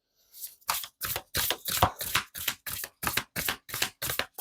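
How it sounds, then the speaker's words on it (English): Rhythmic riffling of a deck of cards being shuffled, about a dozen crisp bursts in quick regular succession, close and fairly loud. "I like to shuffle these and not just like pull cards out"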